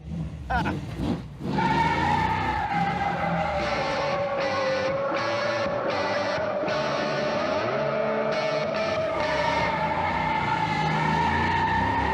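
Car doing a burnout in third gear with spinning tires and smoke, heard as a sustained, loud, steady engine roar with rising wheel-spin tone, near and continuous throughout.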